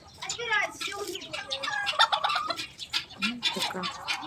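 Chickens cluck and squawk close by at a tulip park in Kropyvnytskyi, Ukraine, with harsh rooster crowing and gobbling calls mixed in, while people talk over the birds.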